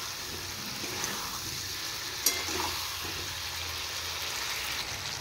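Fried potatoes sizzle steadily in a hot pan with oil as they are sautéed for a Bengali dinner dish. A constant close frying hiss runs throughout, with a faint stir or clink partway through.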